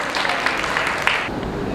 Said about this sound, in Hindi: एक बार जोरदार तालियां इनके लिए हो जाए।